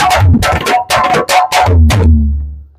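A string dholak is played in West Indian style with Rela bols: a quick run of sharp, ringing strokes in a tight burst, ending on a deeper resonant boom, close and loud.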